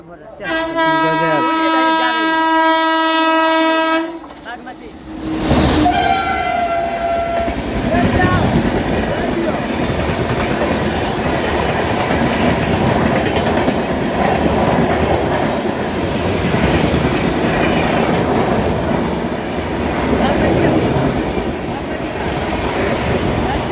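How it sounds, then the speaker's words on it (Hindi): Bagmati Superfast Express, running Mysuru to Darbhanga, passes an Indian Railways MEMU train at a crossing: a long loud horn opens, then a close, continuous rumble and clatter of passing coaches. "सामने से अब हम लोग क्रॉसिंग करने वाली है बागमती सुपरफास्ट एक्सप्रेस मैसूरू दरभंगा"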